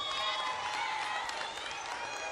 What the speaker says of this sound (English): You can hear the Warwick crowd behind us, too.